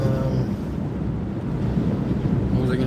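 Wind buffets the microphone in low, rumbling gusts, loud and continuous throughout.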